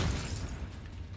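A loud, close explosion from the Expulso spell in a Harry Potter video game, a dense booming burst that fills the whole short moment and fades slightly toward the end.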